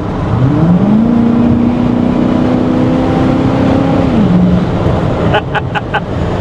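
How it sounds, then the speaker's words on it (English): A 1984 Chevy C20 pickup with a stock exhaust revs up and holds a steady drone before dropping back to idle, loud and close, with a few sharp clicks near the end. "I love the sound of this engine, man."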